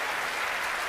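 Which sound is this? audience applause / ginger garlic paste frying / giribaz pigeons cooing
audience applause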